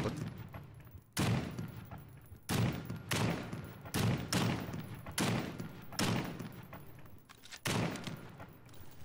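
Repeated bursts of gunfire in the video game The Front crack out in quick succession, some in short volleys, with brief gaps between shots, sharp and fairly close.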